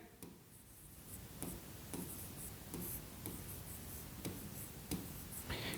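Marker or chalk writing on a classroom board during a percentage math lesson, a faint steady scratching with short repeated strokes and taps, no talking.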